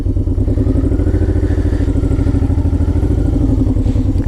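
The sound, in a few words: cruiser motorcycle engine revving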